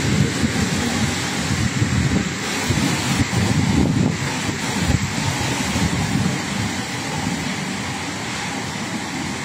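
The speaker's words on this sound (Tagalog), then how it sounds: "Naririnig nyo ba yung lakas ng hangin mga lods?" Strong wind buffeting the microphone outdoors, a loud, rough roar with gusty surges rising and falling, peaking near the middle, with no clear talk.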